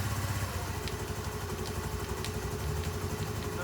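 A Honda Navi scooter engine idles roughly after a cold start, running with a steady, uneven low putter that stays close and continuous throughout, with no talking over it.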